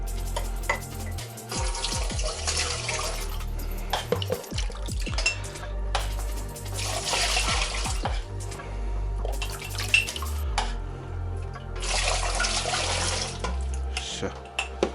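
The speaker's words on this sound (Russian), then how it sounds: "добавляю водички и в принципе автоклав готов" Water poured into a home canning autoclave, a close splashing trickle that swells into three louder bursts of pouring, with low mechanical hum and clunks between them and someone speaking now and then.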